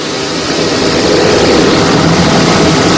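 Offshore racing powerboats, one with supercharged MerCruiser 1000 SC engines, roar at speed on big seas in a 1991 Key West championship race, a loud steady engine drone with no gaps.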